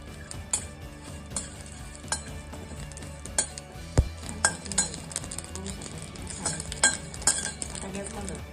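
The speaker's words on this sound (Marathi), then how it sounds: "जिरंही छान भाजून घ्यायचं." Cumin seeds roast in a pan with chillies and garlic for a curry-leaf chutney, giving a soft sizzle under repeated sharp metal clinks and scrapes from a stirring spoon at an uneven rhythm.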